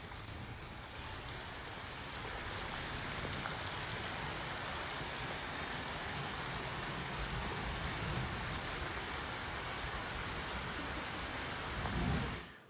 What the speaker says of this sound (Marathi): जिल्ह्यात अजूनही दररोज अवकाळी पाऊस बरसतोय